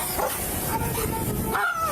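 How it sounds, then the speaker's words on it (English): A police dog barks and yips repeatedly at a traffic stop, close and loud, mixed with shouted commands and steady background noise. "We're going to send this dog."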